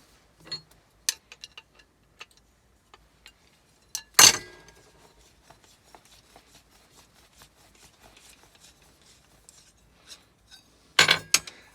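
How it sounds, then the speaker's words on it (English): Spanner working a brass nut off a big aluminium tube: scattered light metallic ticks and clinks, with a louder clank near four seconds and another burst of metal contact at the end, close and otherwise quiet. "Get a spanner, take that brass nut off"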